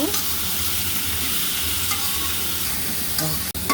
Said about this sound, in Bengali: মশলাটা কষিয়ে নিচ্ছি আর হালকা একটু চিনি দিয়ে দিব